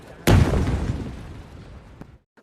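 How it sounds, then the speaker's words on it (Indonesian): A landmine goes off in a war film with one sudden, loud blast, followed by a deep rumble that fades over about two seconds, then a faint late pop before silence. "Tak lama kemudian ledakan terdengar."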